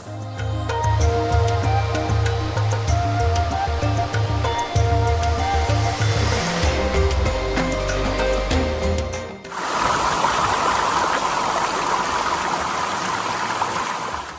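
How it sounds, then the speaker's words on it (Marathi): A monsoon waterfall at Malshej Ghat roars loud and continuous, first with rumbling low water noise and then as a dense bright rush of falling water close by. "मस्त धबधबा आहे"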